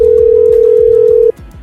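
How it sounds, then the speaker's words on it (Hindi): A telephone sounds one loud, steady electronic tone lasting over a second before cutting off abruptly, over soft background music in a dramatized story. "बोगम, तुमने मुझे इस समय क्यों फोन किया?"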